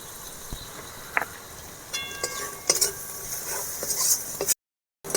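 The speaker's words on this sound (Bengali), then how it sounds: "মশলা কি সুন্দর দেখুন ভাজা হয়ে গিয়েছে" Ground spice paste of onion, garlic, ginger, cumin and chilli powder fries in a pan for prawn malai curry, with a soft sizzle and scattered clinks and scrapes of stirring, ending in a short silence.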